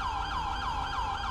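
A police siren in GTA V with the LSPDFR mod wails loud and close, a steady rising and falling cycle repeating several times over a low engine rumble.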